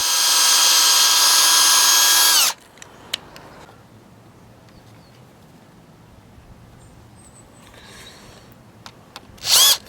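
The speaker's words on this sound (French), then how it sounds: "mettre une cale donc vissée par-dessous et vissée par-dessus pour à chaque fois solidariser le morceau" A power drill driving screws into a wooden cleat for a custom wood privacy screen, one loud whirring burst of about two and a half seconds, then quiet handling and a short final burst.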